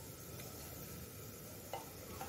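Onion sautéing in a pan with salt and turmeric gives a faint, steady sizzle with soft stirring scrapes, heard alone.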